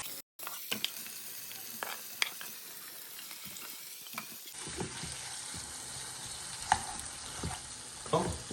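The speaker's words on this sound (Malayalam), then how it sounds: "ഇതെല്ലാം കൂടി നമ്മൾ നല്ലപോലെ മിക്സ് ചെയ്തെടുക്കുകയാണ്" Chicken and masala frying and being stirred in a pan, a steady sizzle with repeated scraping strokes of the spoon, close and fairly quiet, with no talk.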